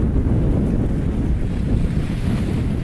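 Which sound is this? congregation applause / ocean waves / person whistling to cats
ocean waves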